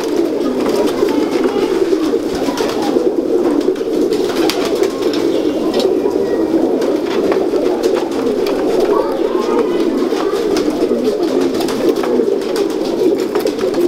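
Salara teddy breed pigeons coo continuously in a loud, close chorus of overlapping throaty calls, with faint background talk.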